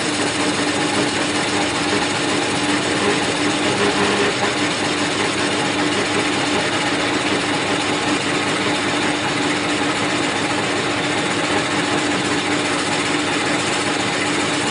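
A lathe turning a brass wood former for an ornamental flask, with a loud, steady mechanical whir and grinding drone running unbroken from start to end, close up, with no speech.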